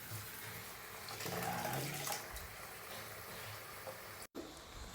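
Water runs from a tap on a house tiling job, a steady broadband rush of moderate loudness that fills the clip, cut by a brief break near the end.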